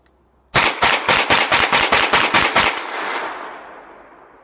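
A Chiappa M1-9 carbine fires a rapid string of about ten loud, evenly spaced shots close by, ending in a fading echo, with no talking.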